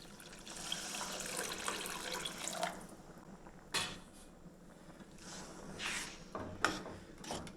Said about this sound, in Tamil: இப்போ பார்த்திங்கன்னா தேவையான அளவுக்கு தண்ணி சேர்த்துக்கலாங்க